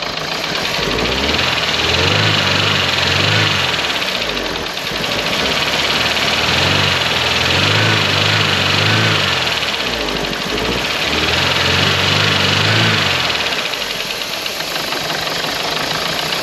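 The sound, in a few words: engine of a rare Mk3 Vauxhall Cavalier running after long sitting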